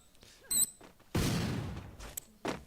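Grenades go off in a competitive video game match: one heavy, close blast rolls out and fades, framed by a few shorter sharp clicks and pops before and after.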